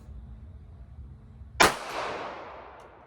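A single sharp shot from a Beretta Tomcat pistol fired double action at an outdoor target range, loud and near, with a short bright ringing tail that fades after the crack.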